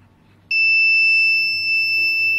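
A piezo buzzer on an Arduino-based smart blind stick with an ultrasonic sensor, set off by a handheld remote transmitter, gives a steady, loud, high-pitched continuous tone that starts abruptly and holds without talk.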